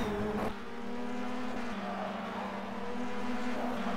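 Race cars in the racing video game rFactor 2 roar steadily at high revs at Symmons Plains, a sustained engine whine with a brief shift in pitch, with no voices.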